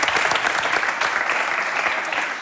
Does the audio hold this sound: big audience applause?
yes